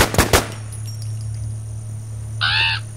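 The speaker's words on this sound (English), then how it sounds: "I just heard gunfire." Gunfire in the survival video game WarZ: two sharp shots close together at the start, then a faint hum, and a brief harsh burst near the end.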